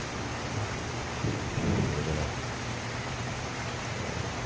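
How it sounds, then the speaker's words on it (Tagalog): Low thunder rumbles steadily beneath a constant hiss of rain, swelling briefly in the middle before settling back into the downpour. "medyo humihinto na ang ulan at kumukulog na lang"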